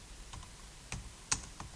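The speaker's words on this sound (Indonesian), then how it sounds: "Kita bisa mengetik dulu dengan cara mengetik from" A few separate, quiet keystrokes of code being typed on a computer keyboard, with sparse taps and one sharper click in a still room.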